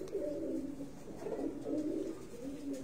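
Pigeons from a breeder's loft cooing, soft repeated low throaty coos overlapping in a steady murmur, close and alone.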